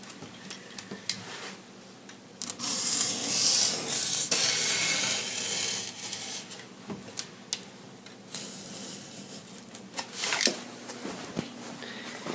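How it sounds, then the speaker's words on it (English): A blade cuts through foam board for a homemade RC plane, cutting about 2 millimeters from an edge, giving close scraping and rasping strokes that come in uneven bursts and grow louder midway through. "So this time I'm going to cut about 2 millimeters away."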